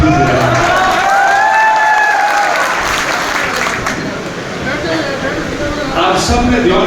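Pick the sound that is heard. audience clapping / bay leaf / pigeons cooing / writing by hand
audience clapping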